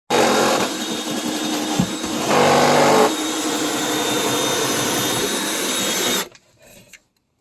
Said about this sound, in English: then we're ready to drill the hole soon